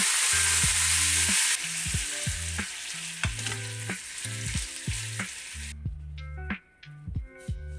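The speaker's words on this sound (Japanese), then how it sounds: "ひっくり返して蓋をし、弱火で4分加熱。" Food sizzling and frying in a covered pan over low heat, a steady crackle with scattered pops and spits; a faint chime-like ticking runs underneath at times.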